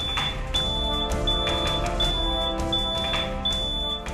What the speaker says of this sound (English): Timely actuation of a smoke detector and fire alarm.